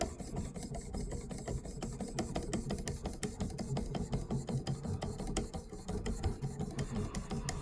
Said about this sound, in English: Let's get the ceramic done on this side.